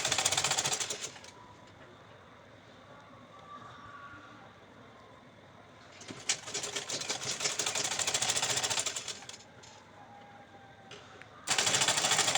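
A sewing machine stitches lace onto the neckline of a gauze-fabric dress, running in three rapid rattling bursts separated by quiet pauses, close and fairly loud.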